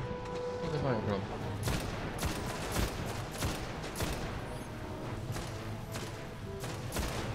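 Video game gunfire in Destiny on PlayStation 4, a barrage of sharp repeated shots and bursts at varying distances with explosive thuds, mixed with game effects and a voice talking over it.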